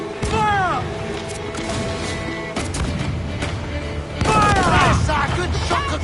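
Ship cannons fire in a naval battle in Assassin's Creed, booming blasts and crashing impacts in heavy bursts, loud and near, under shouted crew commands.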